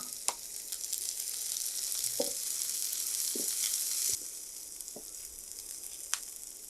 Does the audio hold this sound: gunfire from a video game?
no